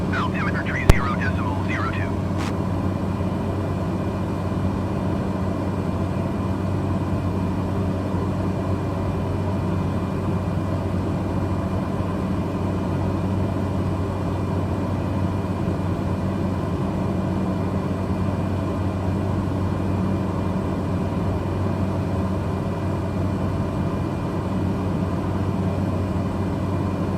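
A Cessna's engine drones steadily inside the cockpit on approach to landing in poor visibility, a constant low hum that lasts throughout, with a brief radio chirp near the start.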